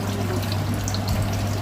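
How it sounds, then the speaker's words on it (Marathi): Cleaned crabs with their pincers removed are rinsed under a running kitchen tap, giving a steady close splashing stream over a low hum. "अगोदर त्या नांग्या ज्या असतात त्या काढून घेतल्या आणि त्यानंतर वाहत्या पाण्यामध्ये त्यांना धुवून घेतलं"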